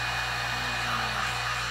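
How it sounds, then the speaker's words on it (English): Hair dryer blowing over fresh paint in an art studio, a steady, fairly quiet whirring hum that continues without break. "Try using the hairdryer and the paint after you drop it."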